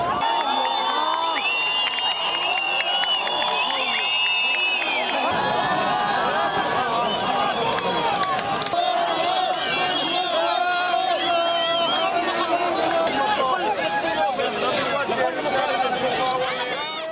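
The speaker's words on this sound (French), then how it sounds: "Une foule, comme vous le voyez en image, en guise de comité d'accueil, avec des drapeaux palestiniens et des cris de joie" Large crowd in Ramallah welcoming released Palestinian prisoners, continuous loud cheering, whoops and shouting with dense chatter, sustained and close throughout.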